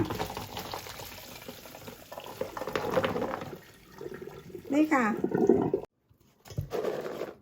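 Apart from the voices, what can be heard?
water being poured off boiled peanuts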